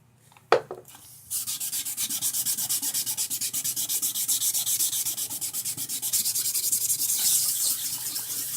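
Sandpaper scrubs a stainless steel pot with burnt-on residue, slightly wet, in quick, even back-and-forth strokes that grow steadily louder. A brief knock comes first, then the rasping starts and goes on without any talk.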